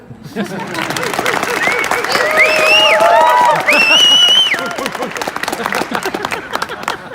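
Loud audience applause and cheering fill a room, with dense clapping, whoops and shouts swelling in the middle before tapering off.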